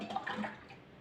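Water is poured into a vessel to soak tamarind and jaggery, a short, soft splashing gush that fades out within a second.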